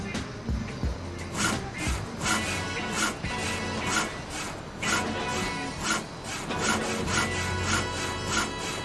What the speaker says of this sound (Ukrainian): Дерево ріжу.